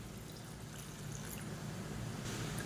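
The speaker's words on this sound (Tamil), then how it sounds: "இப்போ இதில் நல்ல ஒரு 4 டம்ளர் அளவுக்கு தண்ணி சேர்த்துக்கலாம்." Four tumblers of water poured into a pot of sambar, a continuous close, even rush of pouring water that holds steady throughout without any talk.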